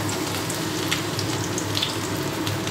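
Onion and capsicum frying in hot oil with grated ginger and garlic for fried rice, giving a steady, close, continuous sizzle that holds even throughout with no talking.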